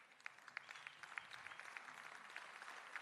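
Sparse, faint applause in a hall at an ANC provincial conference in the Northern Cape for chaplaincy members, with a few distinct nearby hand claps standing out from a quiet, distant patter.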